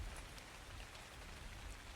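Soft, steady rainfall in the survival game Ark: Survival Evolved, a faint continuous patter of drops with a low rumble underneath and no talking.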